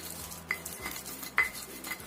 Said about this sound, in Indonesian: Kemudian kita ulek sampai halus.